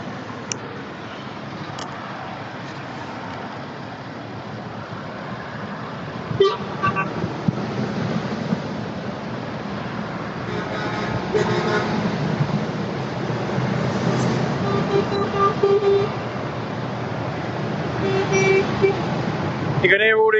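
Lorry horns in passing road traffic, a few short toots and honks scattered over a constant roar of engines and tyres, with a person talking over the traffic noise.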